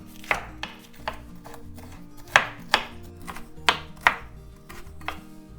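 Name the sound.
finely chopping sweet bell pepper with a knife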